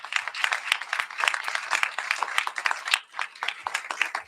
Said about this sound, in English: give the Rotary clubs of the BVI a round of applause